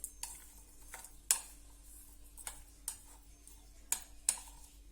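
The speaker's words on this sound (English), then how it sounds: "Now we will add some sugar. Now we will mix it." A spoon clinks against a bowl while sugar is stirred into a makhana custard, a handful of sharp, separate taps spaced irregularly and fairly close.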